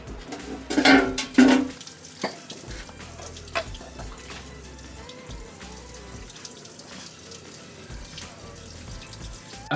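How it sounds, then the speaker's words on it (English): Water sprays and splashes over a motorcycle chain and sprocket during a rinse, with a couple of louder gushing bursts early, then a steady, moderate trickling hiss with faint clatter. "Once you've done that, it's time to give everything a bit of a rinse down."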